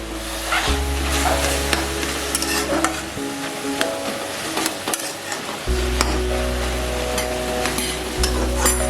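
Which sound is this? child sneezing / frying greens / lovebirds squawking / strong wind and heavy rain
frying greens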